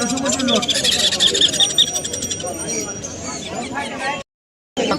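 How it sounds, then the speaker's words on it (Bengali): Kashmiri parakeets for sale at a pet bird market in Dhanmondi, Dhaka, give bright, repeated calls through the first half, under steady chatter and crowd babble. "এটা হচ্ছে কাশ্মীরি চন্দনা"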